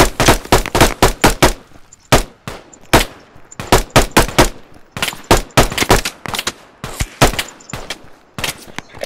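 Rapid bursts of video game gunfire, loud and close, firing in dense volleys with short gaps, no voices over it.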